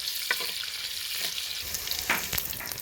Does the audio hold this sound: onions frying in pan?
yes